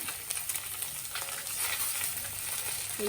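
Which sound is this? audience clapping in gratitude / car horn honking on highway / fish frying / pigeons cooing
fish frying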